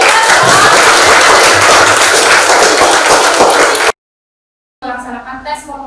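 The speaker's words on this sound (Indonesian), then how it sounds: "Berikan tepuk tangan." Classroom applause, a burst of hand clapping from students that ends abruptly, followed after a short silence by a person talking.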